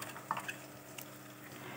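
Green chili fries in a pan with garlic and ginger paste over low heat, making a soft continuous sizzle. A couple of faint clinks of stirring come near the start.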